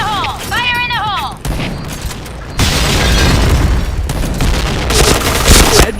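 A grenade blast and bursts of gunfire in a shooter video game, loud, dense and layered across the whole stretch, with in-game character voices calling out over the action.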